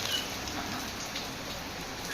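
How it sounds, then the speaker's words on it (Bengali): Steady rain falls throughout, a soft, even patter and hiss of drops on surfaces at moderate distance, with no voices over it. "দেখো কেমন হচ্ছে বৃষ্টি, ভালো ভালো হচ্ছে অনেকদিনের পর"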